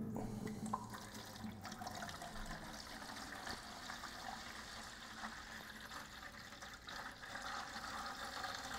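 Steady water pouring into a bucket, a continuous rushing splash that holds an even level throughout, close by with no talking.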